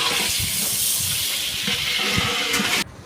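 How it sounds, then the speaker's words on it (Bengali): Potatoes frying in hot oil give a steady, loud hiss of bubbling fat with faint low rumbles beneath, cutting off abruptly near the end. "এই যে আলোগুলা তেলের মধ্যে বাজিয়ে নিচ্ছে"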